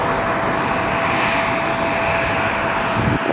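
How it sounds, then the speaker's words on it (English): A jet airliner lands at Atlanta airport, heard as a loud, steady engine roar with broad rushing noise and a faint sustained whine, close and unbroken across the whole stretch, with no voices. "That looks exactly like that plane that just landed, the same landing condition and everything."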